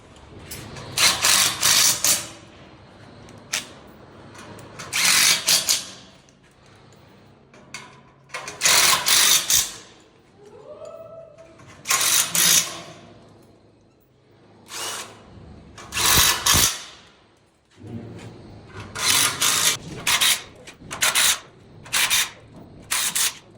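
A power drill whines in short repeated bursts as it drives Tapcon screws into concrete around an elevator shaft, loud trigger pulls separated by brief pauses, no talking.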